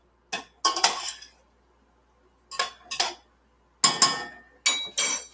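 A metal utensil clinks and scrapes against a pot in four short clusters of stirring while cooking tortillas and plant-based dishes, crisp and close with silent gaps between.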